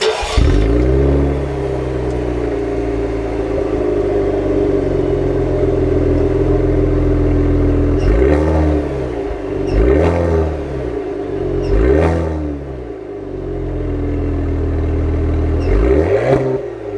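A 2021 Cadillac CT5 V-Series engine accelerates on the road, a loud, close drone broken by repeated rising revs and sharp shift drops, each surge climbing and falling again.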